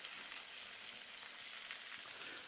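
Vegetables sizzle in a hot skillet plate outdoors, a steady, fairly quiet frying hiss that continues evenly with no voices.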